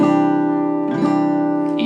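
A single strummed guitar chord rings out steadily and close, sustaining evenly with a slight shift in tone near the end.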